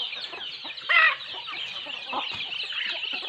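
Several chickens cluck and chatter nearby, with one louder squawk standing out briefly amid the steady flock noise.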